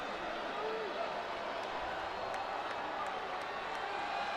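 Jacksonville State football crowd cheering for its defense, a steady far-off roar of many voices in a stadium, with a commentator talking over it.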